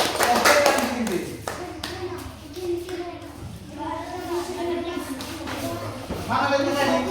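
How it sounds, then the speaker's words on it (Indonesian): Classroom of pupils clapping for a student group, a loose burst of hand claps that fades into chatter and children's voices, with more scattered clapping toward the end. "tepuk tangan untuk kelompok 2"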